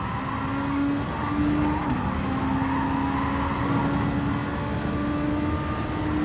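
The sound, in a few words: Super Formula SF2023 race car accelerating at Suzuka, racing game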